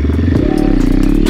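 An Apollo pit bike's small engine revs hard during a wheelie attempt, a loud, close, rising buzz with clattering underneath over a brief burst.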